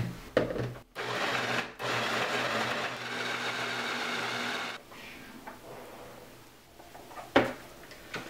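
Electric food chopper mincing the rest of an onion, a steady whirring motor run in several short bursts with brief pauses between, close and fairly loud with no talking.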